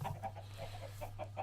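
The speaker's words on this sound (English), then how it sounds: "Those chickens, however, don't look that great." Chickens cluck repeatedly in the Minecraft Sky Factory 2.5 modpack, a steady series of short game-sound clucks with a low constant hum underneath and no talking.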